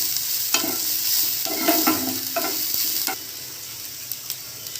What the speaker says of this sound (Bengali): এবার পেঁয়াজ কুচি দিয়েও ভালো করে নেড়ে ভেজে নেব।